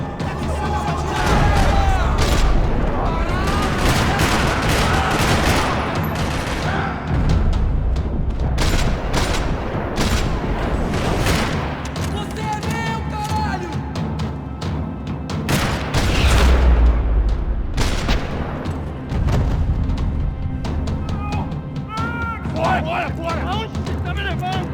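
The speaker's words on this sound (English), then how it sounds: "Another parking lot rattling with gunfire." Gunfire rattles across a parking lot in the Max Payne 3 video game, with bursts of automatic fire and heavy booms repeating through a long firefight, while voices shout and talk over the action.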